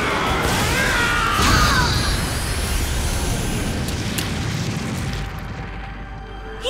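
A Darkest Blast attack in a Bakugan toy battle lands as a loud effect, a heavy boom with a crashing burst that slowly rolls away into quiet.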